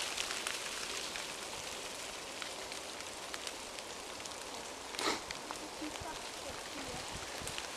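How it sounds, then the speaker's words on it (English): Frozen ice dropping from frosted woodland trees in a gust, a steady dense pattering like rain on leaves and ground, with one louder clatter partway through. "that noise, it's not actually raining, it's just all the frozen ice just falling off the trees"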